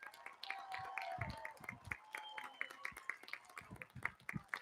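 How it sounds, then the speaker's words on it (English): Applause with clapping and a few cheers from a crowd honoring the newest members of the United States military at an Armed Forces Day parade, steady sharp claps over about five seconds mixed with scattered voices. "Round of applause for you, your newest members of the United States military"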